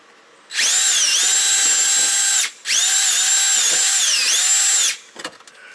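A power drill drilling out a rivet on a truck, loud and close, in two long whining bursts with a short break between them, then a few faint clicks.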